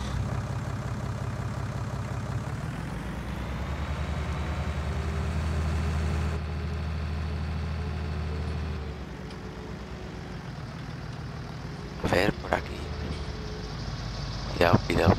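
A tractor engine in Farming Simulator 19 idles and drones steadily with a low, even rumble, shifting in pitch partway through, followed by a few sharp clicks near the end.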